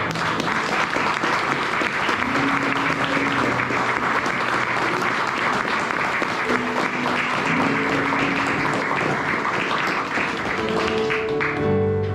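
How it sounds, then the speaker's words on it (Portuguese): A church congregation at a thanksgiving service breaks into sustained applause, dense and loud for the full stretch, with faint sung or spoken tones underneath and a voice emerging near the end. "Uma salva de palmas ao Senhor"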